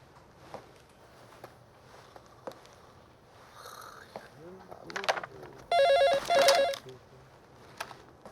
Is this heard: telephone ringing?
yes